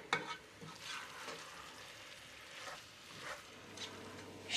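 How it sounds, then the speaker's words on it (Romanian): Braised cabbage with sausages sizzles gently in a pot over low heat while a spoon stirs it now and then, giving soft scraping sweeps over a steady frying hiss. "Și acum amestecați mai des ca să nu se lipească."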